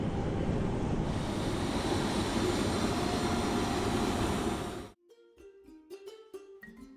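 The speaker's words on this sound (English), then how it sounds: "And with that, we're taking off towards our new episode." An Airlink airplane taking off from Botswana gives a loud, steady roar of engine and rushing air for about five seconds. The roar cuts off abruptly and is followed by a few brief tonal sounds.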